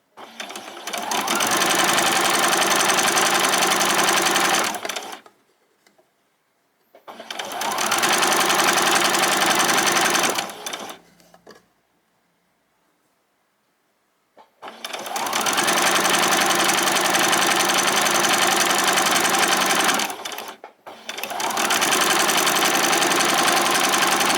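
A sewing machine stitches the seam of a pair of summer shorts in four long, loud, steady bursts of rapid whirring, separated by short silent pauses, with no talk.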